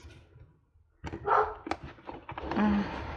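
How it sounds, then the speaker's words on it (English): Dogs bark in a short burst of several sharp, irregular barks with a brief yip, heard fairly close indoors after a quiet moment. "we had to pause for barking dogs"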